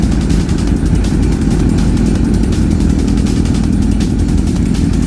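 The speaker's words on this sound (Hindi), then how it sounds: "this Yamaha R1 is way to loud" A Yamaha R1 sport motorcycle's engine roars loud and constant at close range during a highway ride, with a dense, unbroken growl and wind rush throughout.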